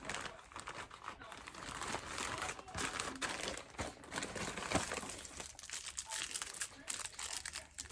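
Plastic bag crinkling close up while unboxing a Temu order, with continuous rustling and crunching handling noise.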